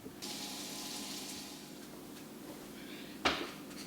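Tap water runs steadily from a faucet into a sink, a soft continuous hiss close by, ending with a brief clunk of something knocking against the basin.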